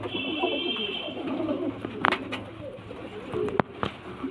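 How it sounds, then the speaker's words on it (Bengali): Golden pigeons coo softly at a breeder's loft, a low throaty murmur running through the clip with a few sharp clicks and flutters on top. "খুব সুন্দর পায়রা এটা গোল্ডেন পায়রা"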